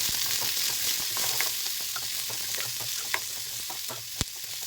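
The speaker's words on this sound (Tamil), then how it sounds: "நறுக்கி வச்ச வெங்காயம் 1 கப் ஆட் பண்ணி வணக்கி விட்டுக்கலாம்." Onions sizzle and crackle steadily in a hot pan, with occasional clinks of a utensil stirring.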